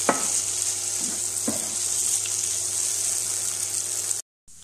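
Kerala-style beef fry sizzling steadily as it dries in a pan, with a few soft stirring scrapes near the start, then a sudden cut to silence.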